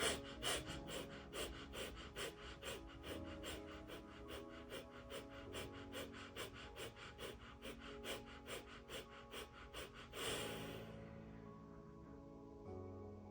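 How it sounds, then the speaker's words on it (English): Rapid fire breathing through the nose during a guided breathwork session, a fast steady train of about two dozen sharp, even nasal exhales for ten seconds, then a slower, fading breath alone. "we're going to start with 25 rapid breaths through the nose"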